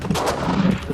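A single sharp gunshot cracks out nearby during a feral hog hunt on an Alabama farm, with a short rumbling tail behind it.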